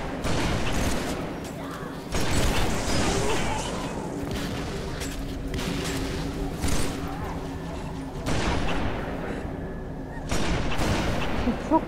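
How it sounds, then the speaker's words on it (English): Heavy explosive bursts from the Brute Shot grenade launcher in Halo 3 on The Ark, booming shots at roughly two-second intervals over a dense, continuous battle din, with voices talking underneath. "Brute shot, eh?"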